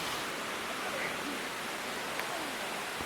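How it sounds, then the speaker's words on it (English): Waterfall beneath a footbridge in Portugal, a steady broadband rush of falling water filling the scene evenly throughout, with no distinct breaks or voices. "We're just about to walk over this bridge over the waterfall."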